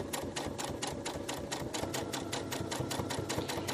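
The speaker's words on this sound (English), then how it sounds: "you're going to stitch all the way around and ensure that you close up that hole at the bottom" A sewing machine stitches around the edge of a fabric coffee cup coaster made from scraps, a fast, even, close mechanical rattle of needle strokes running continuously without pause.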